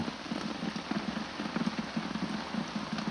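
Heavy rain falls on a mountain rice field, a dense patter of drops striking surfaces with a steady hiss and small irregular pulses, close and continuous with no talk.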